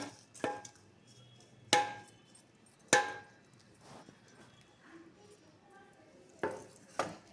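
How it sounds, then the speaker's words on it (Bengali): A spatula scrapes and clanks against a karai while vegetarian fried rice with ghee is stirred, giving sharp metallic knocks at irregular intervals over a faint background, with no talking. "দিয়ে আবার ভালো করে নেড়ে চেড়ে দেবেন"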